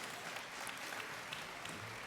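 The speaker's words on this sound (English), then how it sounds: "A round of applause for them, please." Audience applause at a CBTU 2019 convention session, a steady, even patter of many hands clapping that sounds fairly soft and distant, with no voices standing out.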